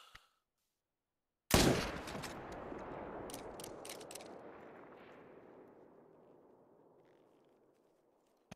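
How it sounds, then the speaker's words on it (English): A single loud rifle shot rings out at a bear in the hunting game Hunter: Call of the Wild. It cracks sharply after a second of silence, then its echo rolls away and fades slowly over several seconds. "so I was going to try to take a hard shot"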